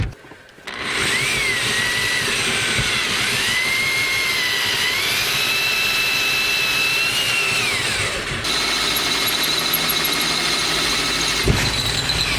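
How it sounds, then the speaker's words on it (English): A power drill whines loudly and continuously, its pitch shifting as it bores through metal, stopping briefly before running again, with no talk. "And then we drill, drill, and drill."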